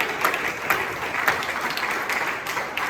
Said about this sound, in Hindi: हम सब खुद तालियां बजाएं.